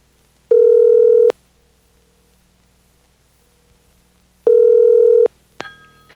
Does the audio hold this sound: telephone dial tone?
yes